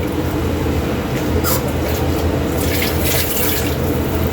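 Water runs steadily from a tap in a continuous hissing splash, close and fairly loud, with faint clatter behind it.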